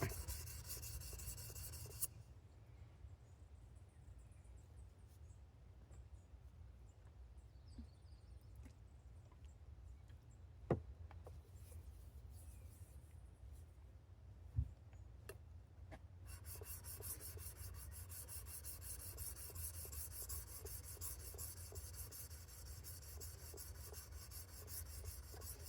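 A plane iron's back is honed on a sharpening stone with steady, continuous rubbing strokes, close and fairly quiet, broken by a couple of sharp clicks and a short pause partway through.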